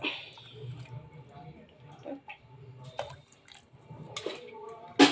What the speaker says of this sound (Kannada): ಅರ್ಧ ಕೆ ಜಿ ಅಕ್ಕಿಗೆ ಎಷ್ಟು ಲೋಟ ನೀರು ಹಾಕಬೇಕು ಸಾಕು ಎರಡೂವರೆ ಲೋಟ